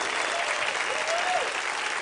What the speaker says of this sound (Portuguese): Aplauda forte aí, meu irmão, por favor.